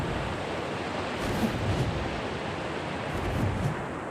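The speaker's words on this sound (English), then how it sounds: "Yeah, you can hear water" Flowing water in the video game ARK makes a steady, dense rushing wash that fills the whole stretch without pause, fairly loud and even, with no talking.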